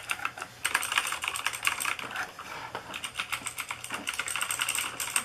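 Rapid clicky typing on a Razer BlackWidow Ultimate 2014 mechanical keyboard with green switches, a steady close-up clatter of keystrokes with brief pauses, heard alone.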